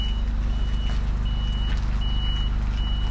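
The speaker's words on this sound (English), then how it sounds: "So the lorry's just turned up with a fuel bowser" A lorry carrying a fuel bowser arrives on a flooded Lincolnshire farm, a steady reversing beep pulsing over the heavy, constant rumble of its diesel engine close by.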